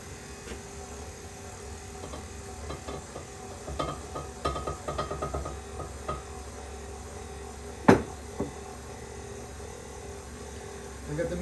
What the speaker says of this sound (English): I've got the mixer on low